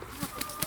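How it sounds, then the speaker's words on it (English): Hens in a chicken pen on an allotment give a few short, soft clucks and squawks close by over a steady background hiss, with no talk. "Chicken pen, and you see the girls here."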